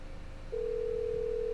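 A steady, continuous phone dial tone from a call placed in the video game The Stalked, starting half a second in and holding at an even level to the end, with no talk over it.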